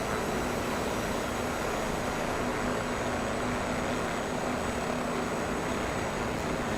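An H500C helicopter engine in Microsoft Flight Simulator drones on in a steady, loud, continuous whine and rumble with an even turbine tone and no breaks.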